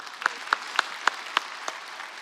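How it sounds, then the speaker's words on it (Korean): Scattered claps from a church congregation during a Sunday sermon, about six distinct soft claps spaced evenly, fairly quiet with room echo. "우리 하나님께 영광의 박수 올려드립니다."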